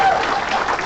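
Audience at a pro-life conference applauding a speaker: a brief, loud, dense burst of many clapping hands, lasting under a second, with crowd noise mixed in.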